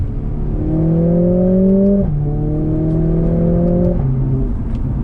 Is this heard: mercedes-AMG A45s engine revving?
yes